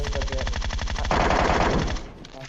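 Rapid automatic gunfire in the mobile battle royale game PUBG Mobile: a dense burst of rhythmic shots, loud and close, that rolls into a sustained roar and then trails off.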